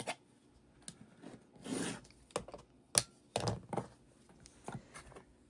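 A rotary cutter trims a courthouse step quilt block along a ruler, heard as a few close, soft rasping scrapes in short bursts with quiet pauses between.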